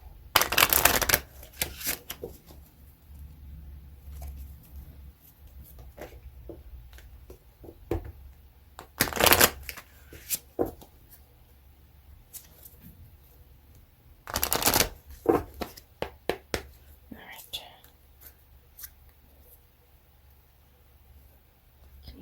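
Tarot cards are shuffled repeatedly close by, with several loud riffling bursts separated by quieter handling and soft tapping.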